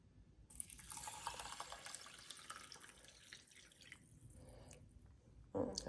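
Warm water pours from a container onto about two tablespoons of rice in a bowl, a faint steady splashing trickle that stops and then gives a brief final splash.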